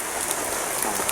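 Rain falls steadily in the mountains as a dense, even hiss of drops with occasional louder splatters, close and continuous, sheltered under taro and banana plants.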